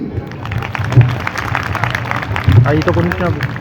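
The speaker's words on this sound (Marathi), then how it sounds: "एकदा टाळ्या होत्या आपल्या मायबापांसाठी" Audience applause at a Bhima Koregaon Shaurya Din commemoration speech in Wardha, a dense crowd clapping that swells near the end, with a voice speaking over it.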